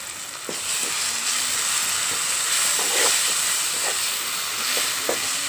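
Tomato, onion and green chilli pieces fry in a pan with chilli powder added, giving a steady loud sizzle and hiss with a few soft scrapes of stirring, close up and without talk.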